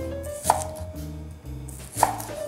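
A knife slices torch ginger, shallots and garlic on a board for a yellow bamboo-shoot and shrimp dish, making a steady run of close chopping taps with two sharper, louder knocks and no talking.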